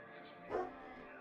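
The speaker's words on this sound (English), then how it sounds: "You guys hear that dog bark?" A single dog bark, fairly faint and a little distant, one short burst midway through an otherwise quiet indoor moment.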